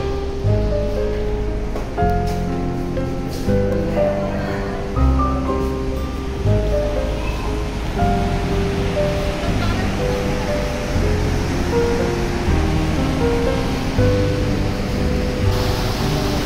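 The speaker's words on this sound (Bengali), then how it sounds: "এটাই আসল ভীমকুণ্ড, যেখানে জলটা ক্রমাগত ঘুরছে" Water swirling continuously in the Bhimkund pool in Keonjhar, Odisha, a steady broadband rushing wash that holds for the whole stretch, with a faint tonal hum running beneath it.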